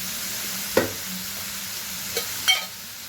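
Pepper powder sizzles softly in frying oil while a spoon stirs it, with a few sharp scraping taps breaking through a steady low hiss.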